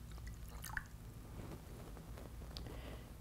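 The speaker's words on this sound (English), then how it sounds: "I'm going to add water to cup two." Water poured into a cup during a simple science fair experiment, heard as faint, scattered drips and small splashes against quiet background hiss.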